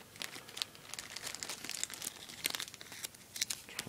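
A plastic bag around two single military-style mesh grenade pouches of the East German type, with belt hooks, crinkles and crackles steadily up close as it is worked open, with sharper rustling bursts and no speech.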